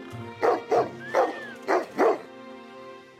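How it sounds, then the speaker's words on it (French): A dog barks five times in a steady rhythm, close and fairly loud, with a brief whistle-like tone between barks. "Un chien."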